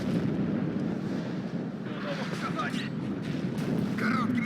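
Artillery fire in the Warno war game rumbles as a dense, continuous mass of distant booms and roar, loud and unbroken, with a voice talking over parts of it.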